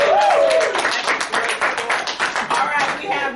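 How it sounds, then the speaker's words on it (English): A small audience gives a short round of applause, the claps loose and uneven and fairly close, with a brief voice-like tone at the very start. "Let's give her a round of applause."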